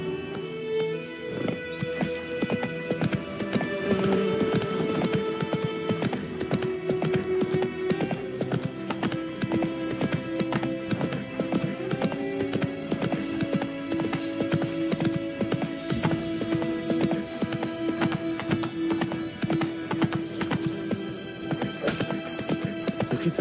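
A horse gallops in The Witcher 3, steady rapid hoofbeats drumming close and continuous over game music, with a whinny breaking through.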